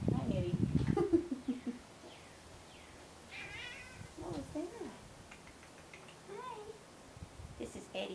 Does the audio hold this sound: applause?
no